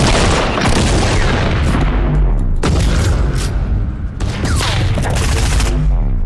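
Gunfire in a Fortnite match aimed at a player boxed inside a built enclosure: loud, dense bursts of rapid shots and booming impacts run continuously for about six seconds, with brief dips between volleys.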